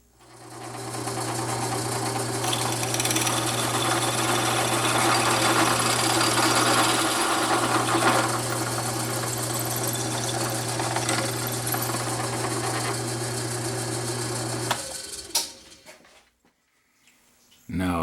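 A power drill enlarges a hole in a steady, loud whine that runs for about fifteen seconds, then slows and stops, with a brief clunk after the motor dies.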